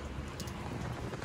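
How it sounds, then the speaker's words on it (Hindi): Steady, continuous rain falls outside in Kullu, a soft, even hiss of drops on surfaces, faint and uninterrupted, with no voices. "बाहर ना लगातार बारिश हो रही है, लगातार बारिश जिसको बोलते हैं।"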